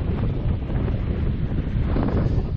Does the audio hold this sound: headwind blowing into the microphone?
yes